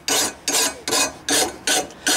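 A hand file rasps across the edge of a lawnmower blade being sharpened, six steady strokes in a regular back-and-forth rhythm, close and clear with no talk.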